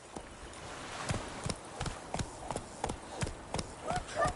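Horse hooves clip-clopping in The Witcher 3, a steady walking rhythm of about a dozen distinct hoof strikes, close and moderately loud, growing slightly stronger toward the end.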